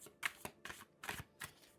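A Cigano (gypsy) tarot card deck being shuffled by hand during a reading, four quick riffling bursts in a steady rhythm, close and clear with no talking.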